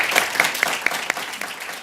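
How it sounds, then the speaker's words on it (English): A seminar audience applauds its guest, a short scatter of hand claps with a few sharp individual claps standing out, fading quickly. "A very warm round of applause"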